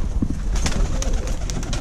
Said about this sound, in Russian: Это голуби кружастые,